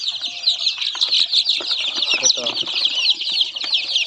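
Chicks of Shamo, Rhode Island, Black Australorp and Buff Orpington breeds, with chickens among them, keep up a dense chorus of high, rapid peeping close by, mixed with scattered clucks, rustling and wing flaps.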